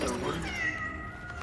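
A cat in the video game Cronos: The New Dawn gives a short meow that rises and then trails off, heard with a voice speaking over it.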